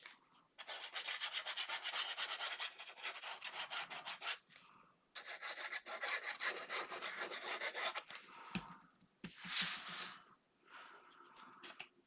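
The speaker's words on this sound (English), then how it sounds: "Then I'm going to fold and burnish that." Paper for a craft folio is folded and burnished, making bursts of dry rubbing and scraping strokes in close, quiet passes with short pauses between them.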